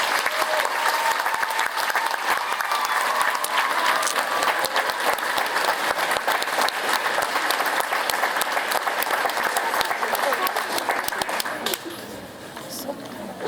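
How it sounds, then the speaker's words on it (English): A graduation audience applauds the students in sustained, dense clapping that fills the hall at a steady level for most of the stretch, then thins and softens near the end. "a big clap for the students"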